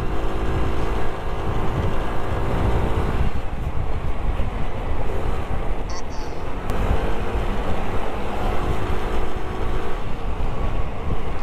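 A Jet RX 125 motorcycle labours up a steep sandy hill, its engine a loud, constant droning rumble mixed with heavy wind noise across the microphone.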